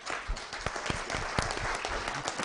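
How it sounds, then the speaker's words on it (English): Audience at a mastermind event giving a round of applause: close, dense clapping with a few sharp individual claps standing out, continuous throughout. "Round of applause."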